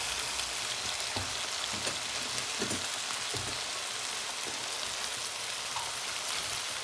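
Shrimp and spinach frying in a pan, a steady broadband sizzle with scattered soft pops and crackles, continuous and fairly close throughout, no talking.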